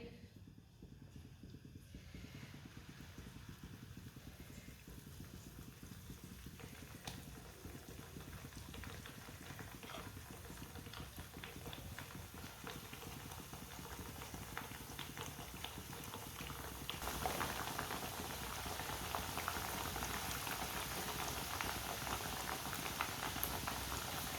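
Spoonfuls of batter sizzle and bubble steadily in well-heated oil, a continuous dense frying hiss that swells louder as more batter drops in, with no talking.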